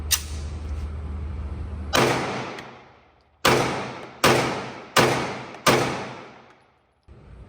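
A Staccato XL 2011 pistol fires five rounds, each a sharp close report with a ringing decay. The first shot stands alone and the other four follow in a quicker cadence.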